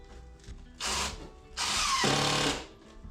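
A power drill drives 1.5 inch screws into a wooden shelf on a workbench: two close, loud bursts of whirring, one short and one longer, with quiet between them.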